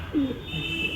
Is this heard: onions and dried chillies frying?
no